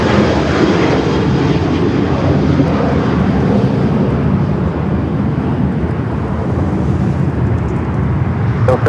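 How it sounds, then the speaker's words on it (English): A Lufthansa Boeing 787 Dreamliner on short final approach to runway 24 right at LAX produces a loud, steady engine roar that holds evenly, then gradually thins and eases toward the end, with no voices. "the Lufthansa Dreamliner, short final for 24 right"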